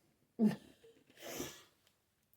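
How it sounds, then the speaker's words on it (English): A single close sneeze: a sharp inhaled catch followed by a burst of breathy air, then quiet. "Excuse me while I sneeze."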